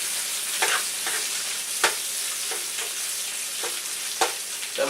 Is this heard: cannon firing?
no